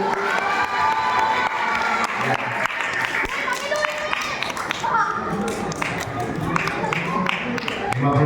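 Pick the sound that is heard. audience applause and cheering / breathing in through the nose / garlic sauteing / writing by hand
audience applause and cheering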